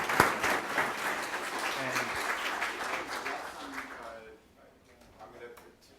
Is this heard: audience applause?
yes